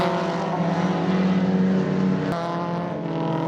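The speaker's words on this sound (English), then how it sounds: "Andrew Mitchell brought out his great sounding Z-Tech powered Mark II Escort for another run" A Z-Tech powered Ford Mark II Escort race car at a historic meeting at Baskerville circuit, its engine roaring loud and steady, with a dense harmonic drone and a brief shift near the end.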